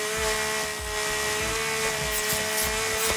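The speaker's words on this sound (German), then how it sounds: "Mit der Kettensägen-Sound." A chainsaw in the survival horror game The Forest gives a continuous, buzzing motor drone with a steady pitch that holds loud and unbroken for about three seconds.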